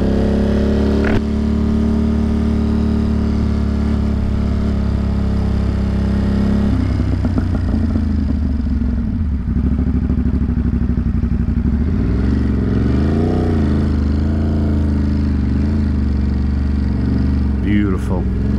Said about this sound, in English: I had to show that kid what a real bike sounds like